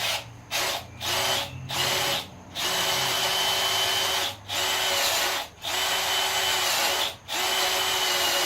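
A power drill bores holes during work on a new motor for a 1951 Chevy, with seven short, loud whirring bursts separated by brief pauses, close and without talk.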